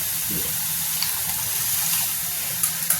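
Cooked masoor dal being poured into a pan of spinach, a steady soft liquid pour with a few wet splats near the end, close by with no talking.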